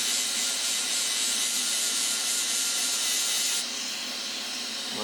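A Dremel rotary tool fitted with a burr grinds and polishes a rock in a steady, close high-pitched whine with gritty rasping, easing slightly in intensity near the end.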